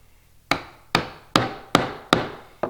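A mallet pounds a chisel into soft aspen wood while a mortise is chopped by hand, giving six sharp, evenly spaced strikes, each ringing out and fading before the next, with no talk.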